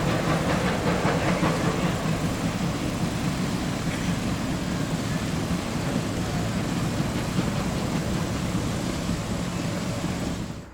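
Small steam locomotive 8102 rolls back toward the station at a steam museum, a continuous mechanical rumble with rhythmic chuffing texture held at moderate distance, fading out at the end.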